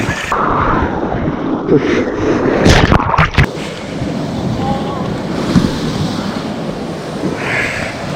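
Ocean waves washing onto a shore as the tide comes in, a loud steady wash blended with strong wind buffeting and a brief burst of louder noise, with no clear talk.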